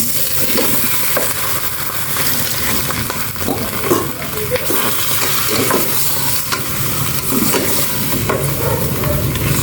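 Pork frying in a pan makes a loud, dense, continuous sizzle close up, with occasional scrapes and rustles breaking through the steady hiss.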